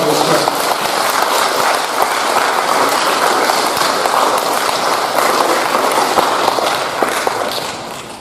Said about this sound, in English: I'd like to give these people a round of applause